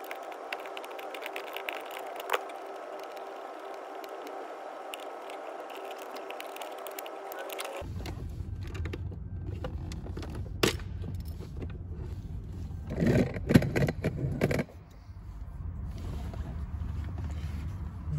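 Someone works a screw loose inside an Audi A4 glovebox, first cracking it free with mole grips and then spinning it out by hand. Close, faint mechanical creaks and small metallic scrapes play over a low background hum, with a brief scratchy rasp near the end.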